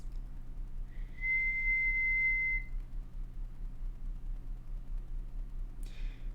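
A person whistles a single sustained, steady note for about two seconds over a constant low hum, alone without talk.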